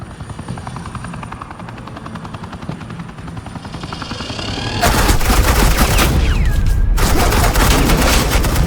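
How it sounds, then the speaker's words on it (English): Sustained suppressing gunfire from the Telltale Batman video game, a loud dense burst of automatic shots starting midway and continuing steadily over a helicopter-like engine drone, with no talk. "This is Agent Quinn, suppressing fire"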